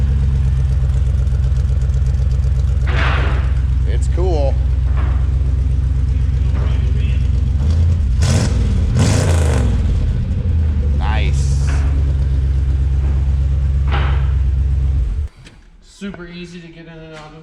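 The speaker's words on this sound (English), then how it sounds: "Pretty tame exhaust." A 1973 Dodge Dart four-door idles with a steady, tame exhaust rumble and a couple of mild revs, loud and close, while people talk over it; the engine note cuts off near the end.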